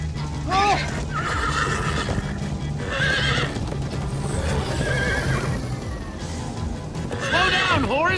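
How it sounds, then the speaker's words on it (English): A horse in the video game Minecraft Story Mode gives several loud whinnies over clip-clopping hooves, with voices talking throughout. "Slow down, horse!"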